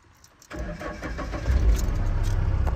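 A pickup truck's engine starts up and revs close by as the truck is eased down into a river on a very rough road, heading out to load eucalyptus wood. The engine turns over after a brief quiet, then swells to a steady, louder drone with no talking.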